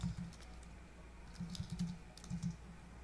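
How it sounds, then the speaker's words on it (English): Python code being typed on a computer keyboard: quiet, uneven clusters of key clicks arrive in short flurries with pauses between, sitting over a steady low background hum. "When I start typing the code that should run on this if statement"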